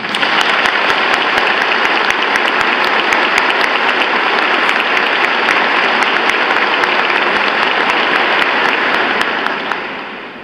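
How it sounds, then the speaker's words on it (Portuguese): A congregation applauds at a diaconal ordination Mass, loud, dense and sustained clapping filling a church for about ten seconds before tapering off at the end. "queria pedir uma bela salva de palmas"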